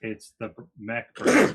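Directly after a short spoken phrase, one loud, breathy sneeze erupts close to the microphone during a tabletop role-playing game session.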